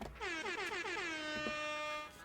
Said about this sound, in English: Air horns.